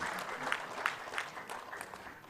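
Conference audience at a PAMEX event in Bangalore applauds for the president, a moderate, continuous patter of clapping with a few sharper claps standing out, fading slightly toward the end.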